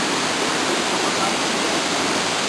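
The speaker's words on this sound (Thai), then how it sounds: "นี้เรามาถึงที่น้ำตกที่นึงเรียกว่าน้ำตกขาดเรือนะครับ น้ำตกที่ไหลจากด้านบนลงมาด้านล่าง" Waterfall about 100 metres high pouring from a height, a steady, loud, broadband roar of falling water that stays constant throughout with no talk.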